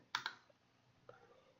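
Two quick computer mouse clicks close together, sharp and close, followed by a fainter third click about a second later over quiet room tone.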